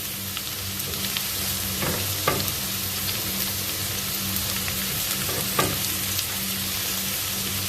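Sliced onions sauté for beef curry in a hot pan, giving a steady close sizzle broken by a few scrapes and stirs of a spoon against the pan, with no talking.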